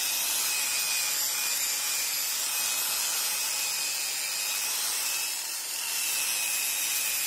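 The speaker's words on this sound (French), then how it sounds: "Faut pas hésiter avec une ponceuse à lamelles comme ça." A flap disc sander grinds steadily across oak, a loud high abrasive whir with a short dip in pressure near the end.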